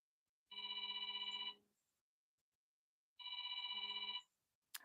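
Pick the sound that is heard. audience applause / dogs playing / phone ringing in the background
phone ringing in the background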